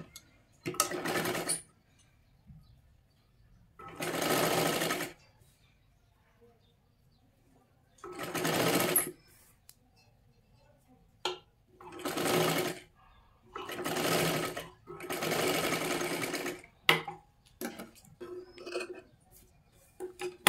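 A sewing machine stitches fabric for a katori blouse in repeated bursts of running, each lasting one to three seconds, separated by quiet pauses, with faint bird calls in the background.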